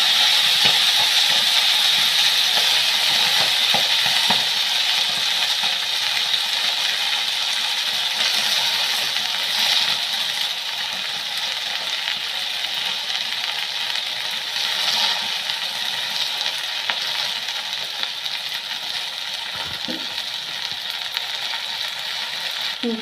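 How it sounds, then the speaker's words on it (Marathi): Fresh fenugreek leaves fry in oil with crackled cumin seeds, giving a steady, loud broadband sizzle and hiss that holds throughout, with faint scattered clicks and no talking. "तर आता मी याच्यामध्ये डायरेक्ट आपली शेतातच खुडून आणलेली मेथी टाकणार आहे."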